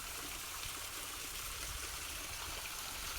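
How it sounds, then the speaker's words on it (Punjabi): Water pours from an old stone stepwell onto stone below, a soft, steady trickling gush heard at low level without voices. "ਬੋਲੀ ਦਾ ਪਾਣੀ ਪੱਥਰ ਉੱਤੇ ਡਿੱਗਦੇ ਦੀ ਆਵਾਜ਼ ਦੇਖ ਲਓ ਦਿਲ ਨੂੰ ਛੂੰਦੀ ਆ"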